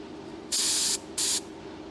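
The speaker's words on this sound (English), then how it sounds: "Why is that spraying so fast?" Paint sprayer spraying used paint for a budget custom paint job: two loud hissing bursts, the first about half a second long, the second shorter, over a quiet background hum.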